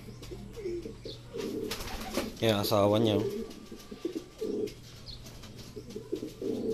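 A racing pigeon coos in a throaty rolling burst up close, while people talk in Filipino before and after it.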